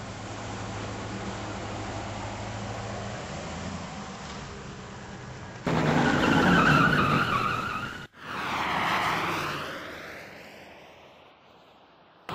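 A truck driven hard, its engine roaring and tires skidding and squealing, with an abrupt cut to another loud pass that swells and fades.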